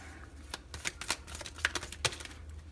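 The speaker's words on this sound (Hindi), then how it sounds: "ये कार्ड शफल करने में थोड़ी दिक्कत होती है" Tarot cards are shuffled by hand in quick, uneven riffling bursts of papery snaps and flicks, close and fairly quiet, with no talking.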